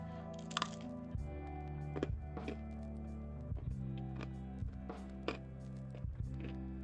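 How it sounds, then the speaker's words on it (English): Crunchy burnt pizza crust being chewed close to the mic: sharp crackling crunches every second or so over a steady hum, each bite a brittle snap. "I'm chewing real quick. It's the really crunchy burnt crust."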